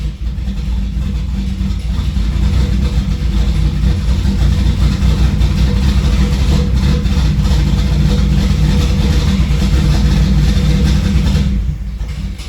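Mercedes 3.2 turbo engine, freshly fitted with a new standalone ECU, running steadily with a loud, deep low-end rumble for most of the clip before dropping away near the end.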